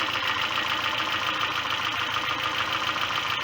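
A Peugeot car engine idles steadily while its cooling system is bled of air, a constant mid-pitched hum with a faint rhythmic knock, heard close and unbroken with no speech.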